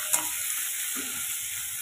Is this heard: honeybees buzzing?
no